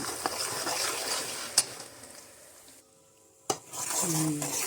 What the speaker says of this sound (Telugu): చక్కగా వేగిపోవాలన్నమాట అందులో ఇలా మొత్తం స్ప్రెడ్ చేసుకొని ఆయిల్లో వేయించేసుకోవాలి అల్లం వెల్లుల్లి పేస్ట్